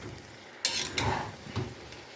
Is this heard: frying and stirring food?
yes